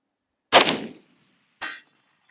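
A KAC SR25 semi-automatic .308 rifle fires a single sharp, loud crack, and a second, fainter impact or report follows about a second later, alone in quiet outdoor air.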